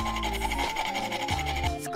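Steady rasping rubs as a cast pewter medal is polished by hand and its gate area is filed down, a close, continuous scrubbing texture with no voices.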